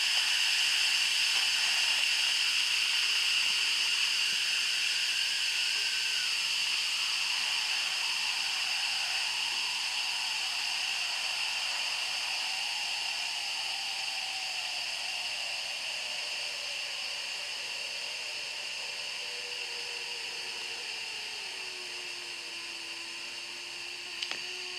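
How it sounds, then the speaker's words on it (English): Steam hisses from the release valve of an Instant Pot pressure cooker, a loud, steady rushing that holds for nearly half a minute and slowly softens and lowers as the pressure drops. "See, the steam is slowing."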